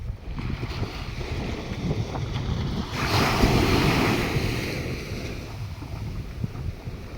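Sea waves washing onto a Taiwan beach near Tainan, a rumbling surge that swells loud mid-way and recedes, heavy wind buffeting the microphone, no voices.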